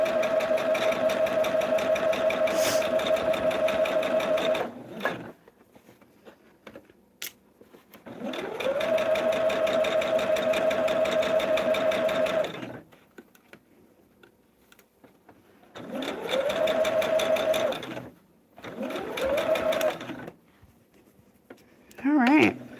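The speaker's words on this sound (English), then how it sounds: "this is the last sew line" A sewing machine runs the final seam line of a star-pieced table runner in several long bursts of rapid mechanical whirring, separated by quiet pauses, loud and close, with a voice speaking between runs.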